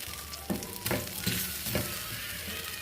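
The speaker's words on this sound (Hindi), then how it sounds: "इसको हम अच्छी तरह से मिक्स करेंगे और कुक करेंगे तकरीबन 5 मिनट के लिए" Chicken cooking in milk in a pan for chicken bread, a soft sizzle broken by several scraping stirs of a spoon at irregular intervals, no talk.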